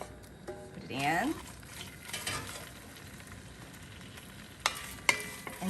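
Shrimp heads and shells dropped into hot oil fry with a soft, quiet sizzle, with a few louder clicks and utensil scrapes near the start and toward the end, close by and without talk.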